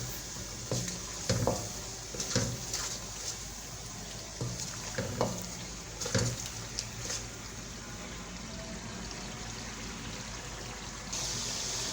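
Spaghetti masala fries and gets stirred in a pan over low to medium heat, a soft steady sizzle broken by repeated spoon scrapes and clinks, quiet and close with no talking.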